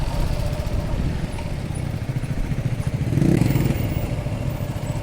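A Victory Venom 18 motorcycle rumbles with a low, throbbing engine that swells briefly as it accelerates on a ride with a passenger, mixed with wind buffeting and steady road noise.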